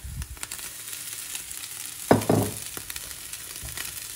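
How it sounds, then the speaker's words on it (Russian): Egg frying in a pan with green peas, with rice stirred in, giving a steady soft sizzle and a louder burst of scraping and stirring midway. "чтобы оно, яйцо хорошо прожарилось. И добавим рис."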